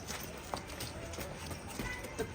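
Faint, irregular hoof clops of a mare walking, muffled and distant against a low steady background noise.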